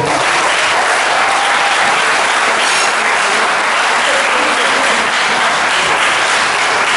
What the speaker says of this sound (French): Est-ce que cette fois-ci vous pouvez acclamer votre orateur?